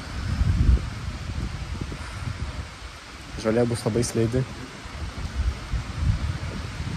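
Low, gusty wind buffeting the microphone outdoors in rainy, cold weather, in rumbling bursts, with someone speaking briefly in the middle.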